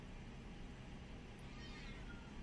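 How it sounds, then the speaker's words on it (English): A quiet house cat meows indoors, soft and close, against a steady hiss of room noise with no talking. "Oh, I hear Claire making some meowing noises, which is very rare because she's very quiet."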